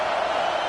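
A stadium crowd in a video football game gives a steady, dense roar of cheering at moderate distance, sustained for a brief moment.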